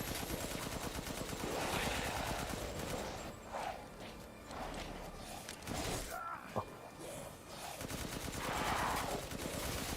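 Heavy sustained gunfire in Resident Evil Village, long automatic bursts broken by brief pauses and a sharp crack, with game effects mixed in throughout.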